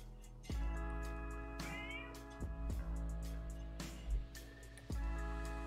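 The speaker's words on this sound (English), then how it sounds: "Meow, meow." A cat meows several times, moderately close, with short separate calls spread over a few seconds and no talking.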